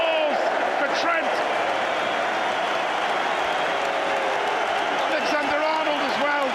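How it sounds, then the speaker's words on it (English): Football fans at Liverpool's full-time Premier League title celebrations applaud Trent Alexander-Arnold, a dense, steady wash of stadium clapping and crowd noise running throughout under a commentator's continuous talk. "Big applause for Trent."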